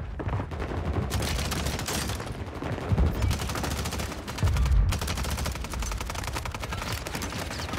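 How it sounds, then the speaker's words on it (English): Gunfire in a Call of Duty match on Rebirth Island, with a dense, continuous burst of rapid automatic shots and louder heavy thuds that fill the mix throughout. "I'm getting shot from your side, Mike."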